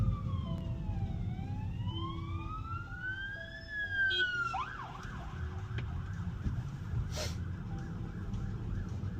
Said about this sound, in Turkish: Ambulans mı geliyor? Evet ambulans geliyor.